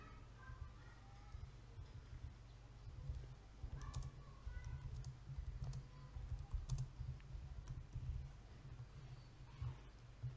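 Someone types a Facebook group post on a computer keyboard, producing soft, quick key clicks over a low steady hum.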